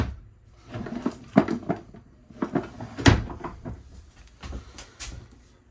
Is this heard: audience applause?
no